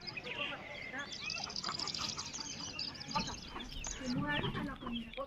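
Several chickens cluck and squawk close by in an irregular chorus, with a few louder calls near the end.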